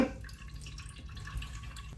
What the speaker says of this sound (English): We're literally squeezing the starchy water out of the potatoes.